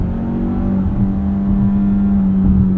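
A 2020 Mazda CX-5 Signature Turbo AWD engine drones steadily at high revs from inside the cabin, a loud, even tone that climbs slightly with no talking.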